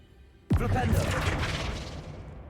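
Cast in Hogwarts Legacy, the Flipendo spell strikes with a sudden loud boom, followed by a whooshing, crackling tail that slowly fades.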